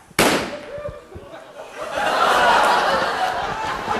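A liquid nitrogen cannon fires a cork with one sharp, loud pop, followed by a lingering hiss and rush of escaping vapor, with voices and a bit of laughter in the background.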